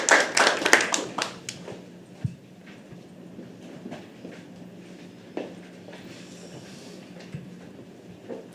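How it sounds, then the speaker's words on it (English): An audience claps at a live poetry open mic at The Habitat, a strong burst of applause that fades within a couple of seconds, followed by scattered taps, shuffling and soft room noise. "can we have a huge round of applause and welcome our next act for the afternoon."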